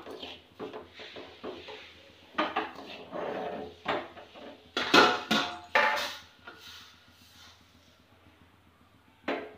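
Millet grains dry-roasting in a pan while a spoon stirs them, giving intermittent scraping and rattling clatter in uneven bursts. The sound is moderately close, with no talking.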